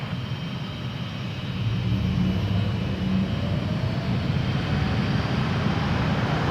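A Porter airliner taking off from runway 23 at Toronto Pearson, a steady broad jet engine roar that swells after the first couple of seconds and holds, heard from a distance without voices.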